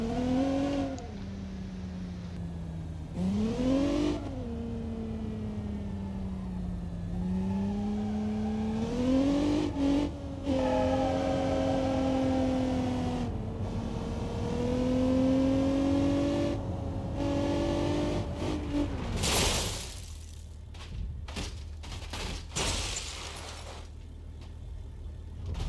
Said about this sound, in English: Now, I'll let you listen to the engine.